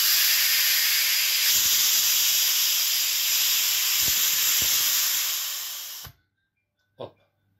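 Steam hisses loudly and steadily from the opened pressure-release valve of a Medvedev dental polymerizer, cutting off abruptly after about six seconds, followed by a brief faint knock.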